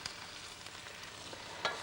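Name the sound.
red cabbage stirred in melting butter in a pan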